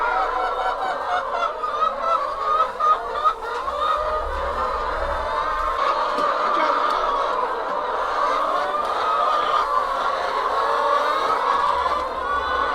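A dense flock of chickens fills the clip, continuous honking and clucking chatter at steady loudness with no voices.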